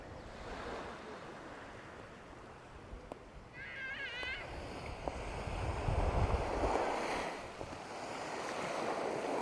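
Surf washing onto Klong Chak Beach on Koh Lanta, Thailand, a soft, steady rush of waves with swelling surges, with a brief high mewing cry and light wind noise mixed in.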